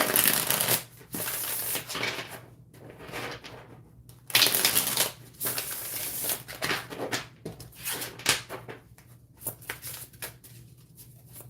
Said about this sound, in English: Yeah, no problems here with the shuffling.